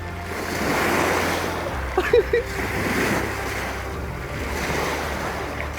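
Ocean waves wash onto a beach in a broad, steady roar, rising and falling in surges, with wind buffeting the microphone and a few brief knocks partway through.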